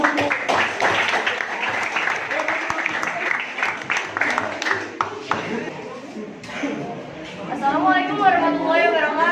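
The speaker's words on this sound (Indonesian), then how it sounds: "Ya, tepuk tangan dulu." A classroom audience at a university teacher-training presentation applauds, with dense, steady clapping for several seconds before it fades under a speaker's voice near the end.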